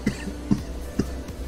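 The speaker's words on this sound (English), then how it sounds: "Cough, cough." A person coughs three or four times in short, spaced bursts, fairly close and moderately loud over a steady low background hum.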